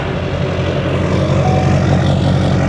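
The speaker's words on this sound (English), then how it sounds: "You gotta love the sound of a Duramax." A Duramax diesel engine in a 2005 truck runs steadily and loudly up close, a continuous low rumbling drone with even, throbbing texture and no pauses.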